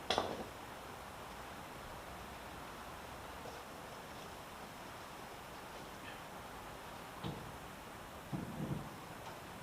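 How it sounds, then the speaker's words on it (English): Faint, steady rain hiss with a soft low rumble of distant thunder during a thunderstorm, heard from inside a garage, quiet and continuous, no voices. "I don't know if y'all can hear the rain, but it's storming right now."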